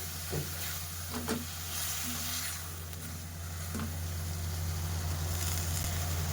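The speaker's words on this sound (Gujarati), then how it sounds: "મિક્સ કરી લેશું।" Tindora (ivy gourd) curry with spices and a little water being stirred in a pan, a steady low sizzle and hiss under a few soft scraping strokes of the spoon, fairly close and even throughout with no talking.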